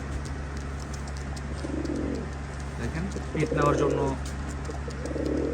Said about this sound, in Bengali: আসলে কবুতর দেখলেই শান্তি, এইসব কবুতর দেখলেই শান্তি